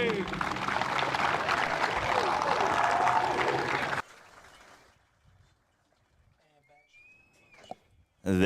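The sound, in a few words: applause for Hall of Fame inductees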